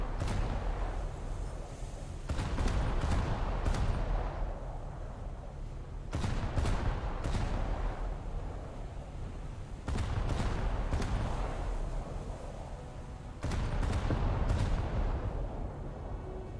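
Heavy naval guns on US cruisers fire in a naval video game, sounding as loud booming salvos in clustered volleys that repeat about every four seconds, each volley followed by a long rumbling tail.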